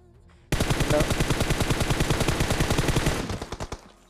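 A rapid, loud burst of automatic gunfire from a video game starts abruptly and keeps up an even rhythm for about three seconds. It then tapers off into a few spaced final shots, with no voices.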